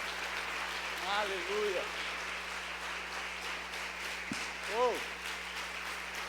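A church congregation applauding, a steady wash of crowd clapping running throughout, with a voice exclaiming loudly over it twice.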